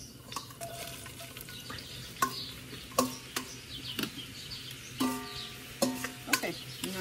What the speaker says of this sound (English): Tell it's sizzling.